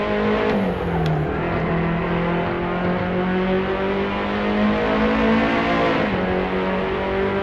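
Lotus Elise SC engine in Assetto Corsa revving hard through a time attack lap, a loud, steady high-pitched drone with rising pitch that drops briefly at a gear shift and climbs again.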